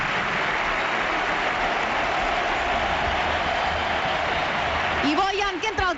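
At the Camp Nou during a FC Barcelona versus Real Madrid Liga match, a large stadium crowd applauds a David Villa substitution in a sustained, distant roar of clapping. A commentator speaks briefly near the end.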